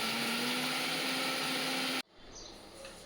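A kitchen blender whirs loudly and steadily as it grinds yogurt and mint leaves into a fine paste for a fish curry, then cuts off abruptly, leaving a quiet room.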